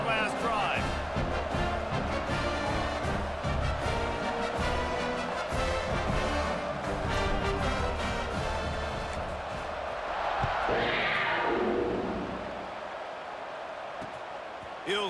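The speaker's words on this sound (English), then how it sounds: "this crowd is feeling themselves after that last drive" A stadium crowd in a college football video game, Arkansas at Kentucky, roars in a steady sustained wash of cheering that swells near the end, with a commentator talking over it.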